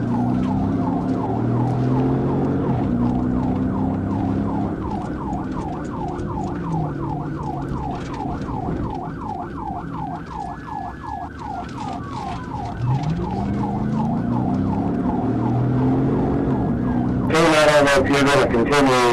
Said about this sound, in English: we've got at least 2 police cars in the chase now